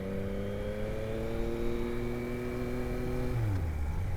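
Yamaha MT-09 motorcycle engine accelerating hard with wheel control off, a steady rising drone that holds and then drops sharply in pitch near the end as the front wheel lifts, loud and close with no talk.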